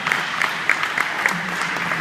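An audience applauds a startup team after their pitch at the finals of a tech conference competition, steady close clapping with a few sharper individual claps standing out.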